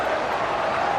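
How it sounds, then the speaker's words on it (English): Rugby crowd at a Wakefield versus Bradford cup match in 2001, a dense, steady roar of many voices with a jeering edge, continuous and fairly loud throughout the second. "Some jeers from the crowd."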